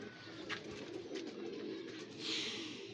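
A pigeon coos softly at close range, with a low, rolling murmur that repeats throughout against faint background noise.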